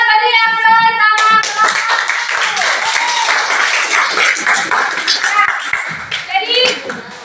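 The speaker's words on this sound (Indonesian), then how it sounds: "Oke, kita beri aplaus sama" A classroom group of students applauds together, dense steady clapping that starts loud right after a short spoken lead-in and keeps going, mixed with some children's voices, then thins out toward the end.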